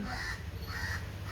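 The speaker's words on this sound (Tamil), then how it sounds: "இந்த காக்கா எவ்வளோ டிஸ்டர்ப் பண்ணுது கைஸ்" Outdoors in a village, a crow gives two harsh caws, evenly spaced and fairly faint, over a low background hum.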